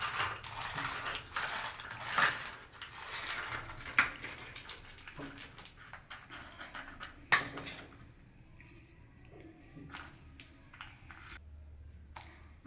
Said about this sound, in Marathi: आणि एका प्लेटमध्ये असे ओतून घ्यायचे सगळे